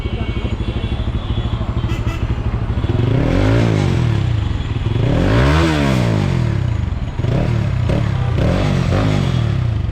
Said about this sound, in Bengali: এক্সস্ট নোটটা চরম ভাই